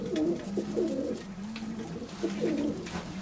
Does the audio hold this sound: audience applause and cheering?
no